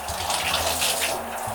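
Cold shower water runs steadily and close by, a full rushing splash that continues without a break and with no voices over it.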